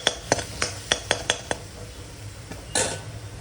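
Spices being stirred and sautéed in a pan, with a rhythmic series of sharp metal spoon scrapes and clinks against the pan over a low sizzle, then a pause and a final louder scrape, no talking.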